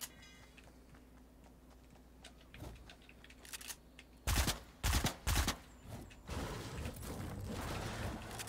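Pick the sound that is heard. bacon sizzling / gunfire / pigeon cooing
gunfire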